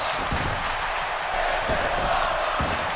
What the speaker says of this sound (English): And this crowd is loving this.